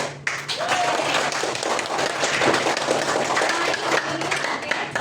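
A classroom of students claps for a classmate named Dimas, dense and continuous from start to finish, close and fairly loud with no words spoken.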